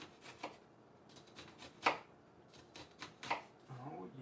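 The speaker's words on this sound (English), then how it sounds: "Dicing the onion." A knife dices an onion on a cutting board during home food preparation, with a few irregular soft chops and taps spaced across the moment, close and fairly quiet, with no talking.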